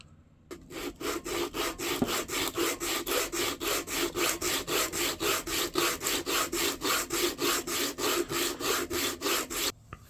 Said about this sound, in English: Keep this sanding going, then we're going to have to round all these edges with rasps and sand it all down more